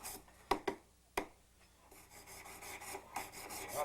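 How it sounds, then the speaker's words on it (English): A sanding stick rubs over a gold ring being sized by a jeweler, giving a dry, close rasping scrape with a few sharp strokes early on, then steadier repeated rubbing that continues to the end. "Sanding stick, turn it over, sanding stick,"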